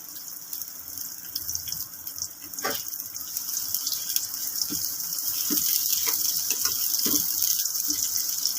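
Two medium-sized onions fry in hot oil, a continuous bright sizzling hiss with scattered small crackles and pops that grows slightly louder and denser over time, with no voices.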